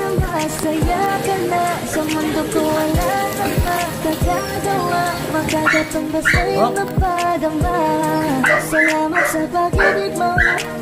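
A dog barks repeatedly in sharp bursts amid loud, busy background sound with steady rain-like noise throughout.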